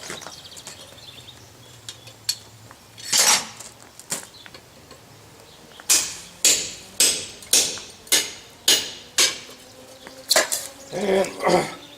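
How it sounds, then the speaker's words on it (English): A hammer strikes a punch to drift a hole in hot forged steel, first a few scattered blows, then a quick run of about ten sharp, ringing metallic hits close by. "Now I'm going to drift that out just a little bit with my chisel, or with my punch, I mean."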